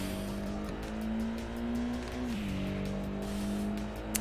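A dark gray Nissan G35 Skyline Coupe with a subdued stock exhaust pulls away in the video game Import Tuner Challenge, its engine holding a steady drone that briefly dips in pitch, with faint tire noise and no talking.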